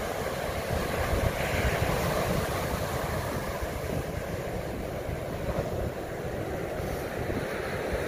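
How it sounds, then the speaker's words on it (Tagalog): Strong, heavy surf rolls steadily onto the shore at Pebble Beach, California, a loud continuous roar of breaking ocean waves with wind buffeting the microphone throughout and no talking. "Pero sa ngayon, ang lakas ng alon."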